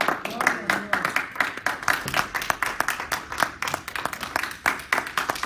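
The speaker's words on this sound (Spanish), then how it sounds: "den un aplauso al Señor" Church congregation clapping for the Lord, a loose, fairly close burst of many hands striking in uneven quick rhythm, with rapid sharp claps rising and falling over several seconds.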